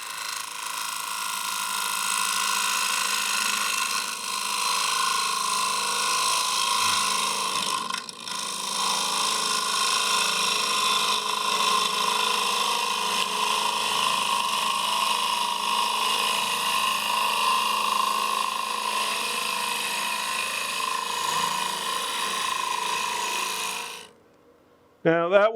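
Lathe gouge cutting the end grain of a green wood bowl during rough turning: a steady, loud, rough droning cut with a continuous scraping tone, sustained for over twenty seconds before stopping abruptly.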